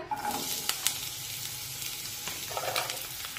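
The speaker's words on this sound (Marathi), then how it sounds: "आता तेल हलकसं गरम झालं की त्यामध्ये एक उभा पातळ चिरलेला कांदा टाकूया" Thinly sliced onion frying in lightly heated oil, a soft continuous sizzle with occasional crackles and a stirring scrape, close but fairly quiet, no talk.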